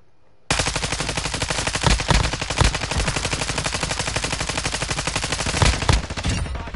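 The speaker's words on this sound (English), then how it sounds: "Gunfire coming from over here." Video game gunfire: loud, rapid automatic bursts crackle almost continuously after a short quiet start, with heavier individual shots punching through the rattle.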